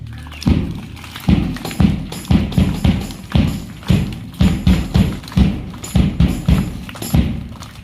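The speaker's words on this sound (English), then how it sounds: "Next PT, clapping PT." Students clap their hands in unison during a morning PT exercise at school, about twenty sharp claps in a steady rhythm with brief irregular gaps, fairly loud and close with a roomy echo, no talking.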